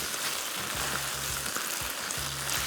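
Spaghetti folded and mixed into beef satay in a hot pan, a steady sizzle with repeated low scraping strokes of the spoon at a quick, uneven rhythm, close and without talking.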